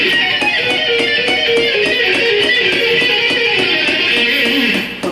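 Fast electric guitar arpeggios picked in a quick, even pulse of repeated notes, with a steady bright tone that holds for about five seconds and then drops away at the end.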